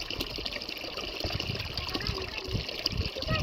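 Tap water runs steadily during clothes washing, a continuous trickling, splashing flow with low knocks and thuds from nearby handling, close and moderately loud.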